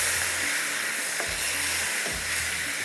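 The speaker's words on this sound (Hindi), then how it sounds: "सिर्फ हमें इसको जिस तरह से एक तरह से भूनना है।" Tender cooked mutton fries in a pan with onion, ginger, garlic and tomato, giving a steady, close, bright sizzle and hiss with occasional soft scraping stirs.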